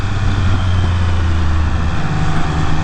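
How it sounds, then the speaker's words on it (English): Triumph Speed Triple 1200 RR motorcycle with a triple-cylinder engine, holding a steady, close, loud low rumble with an even throb and no breaks. "But that triple cylinder engine sounds so good, man."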